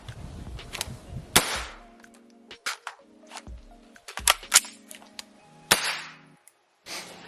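A magazine is pulled from an AXL dual mag hanger in an emergency reload, giving a string of sharp metallic clacks, snaps and rattles at close range, spaced irregularly with short quiet gaps and no talk.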